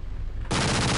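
A gun fires in the first-person shooter Brutal Half-Life, a sudden loud blast cutting in halfway through after a quieter stretch of game ambience, heard alone without speech.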